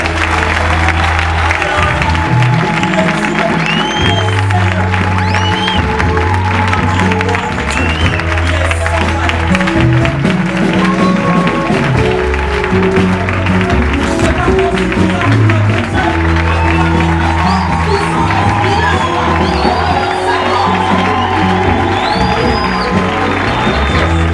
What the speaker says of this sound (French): Comme un seul homme, nous acclamons très fort pour notre Dieu.